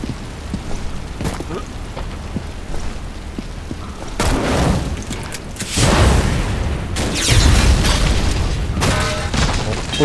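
Several loud booming video game explosions burst out over a crackling background, each followed by a rushing roar, with a voice talking in French in between.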